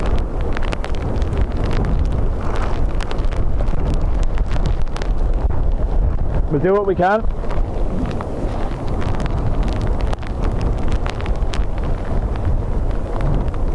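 Strong Storm Bert wind at Dublin Airport roars in continuous heavy gusts across the microphone for the whole stretch, with a brief voice speaking partway through.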